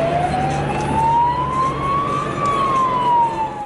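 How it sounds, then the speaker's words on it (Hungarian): A Hungarian fire engine's siren wails in one long, slow rising and falling tone, loud and steady over road noise from the traffic around it. "majd több szirénázó mentő is érkezett az épülethez"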